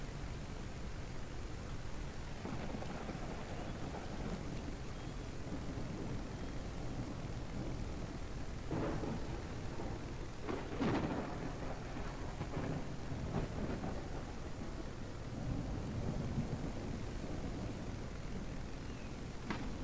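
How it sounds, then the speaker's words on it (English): Thunderstorm with steady rain in the video game Albatroz, a constant rain hiss throughout with several thunder rumbles and cracks swelling in the middle, no voices. "What a storm."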